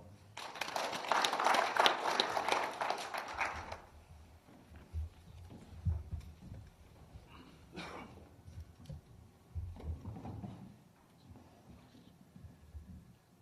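An audience at a 2015 small-business forum in Yeoju applauds a professor, a full burst of clapping lasting a few seconds before it drops to quieter room noise and low murmuring.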